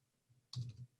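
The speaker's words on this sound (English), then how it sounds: "if I click here on Lynda.com, it will take me out" A single computer mouse click, sharp and close, followed by a brief soft rattle, set against a very quiet background with no speech.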